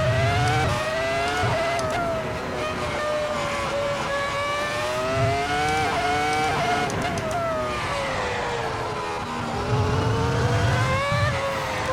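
A V10 Formula 1 car's high-revving engine screams steadily throughout, its pitch rising and falling with gear changes, loud and close, with occasional low rumbles.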